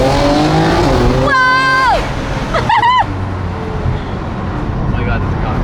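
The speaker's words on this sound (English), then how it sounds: "I heard a sports car" A sports car accelerates hard with a rising, revving engine tone that climbs sharply twice, loud and close, while people talk over it.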